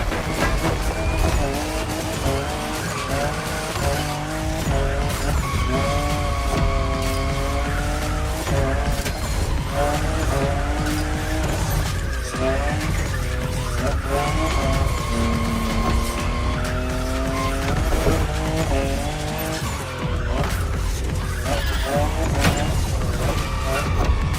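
Toyota Supra, fifth generation, driving in the racing game The Crew Motorfest, a loud continuous engine that revs up and down through gear shifts, with tire squeal throughout.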